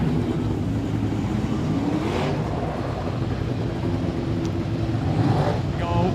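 Super sedan race cars roar around Kingaroy Speedway in an A-Main, a dense, continuous engine drone with cars passing close by, under a commentator's voice.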